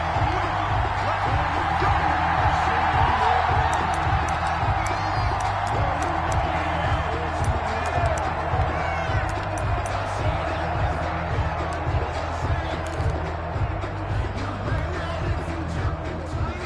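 Stadium crowd at a Washington Football Team versus Dallas Cowboys NFL game keeps up a steady, dense roar with scattered whoops and shouts, a continuous wash of many voices filling the whole stretch at fairly high level.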